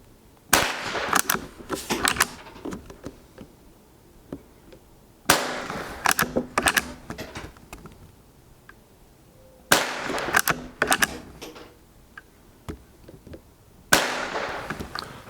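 Sharp, dry cracks from a Rossi Rio Bravo .22 lever-action rifle ring out in separate clusters of shots, with quiet pauses between the bursts.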